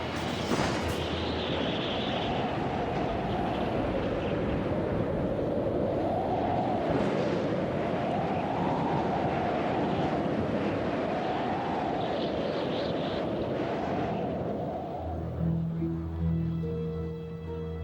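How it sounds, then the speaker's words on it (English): Major tornado roaring over suburbs, a continuous heavy rushing wind noise with slow surging swells that fades toward the end, no voices. "It's one of the most violent and destructive forces of nature, a super twister. This is a major tornado."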